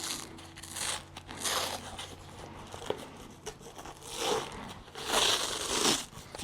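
Hook-and-loop sanding pad being ripped off a RIDGID orbital sander, a series of scratchy tearing and crinkling bursts in several separate pulls, close and fairly quiet, with no voices.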